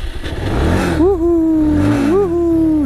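A Bajaj Pulsar 220 motorcycle engine revs close and loud, two rising throttle blips settling into a steady whining tone, with rumbling idle before them.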